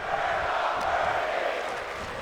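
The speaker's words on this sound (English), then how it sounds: "Crowd chanting we're not worthy." A wrestling crowd chants "we're not worthy" at an SVW Jenesis live event, a dense, steady roar of many voices filling the arena.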